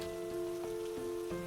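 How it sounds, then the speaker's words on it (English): Rain falling as a steady flow of raindrops: a continuous, soft hiss spread evenly through the clip, under gentle sustained musical notes. "Just a steady flow of raindrops."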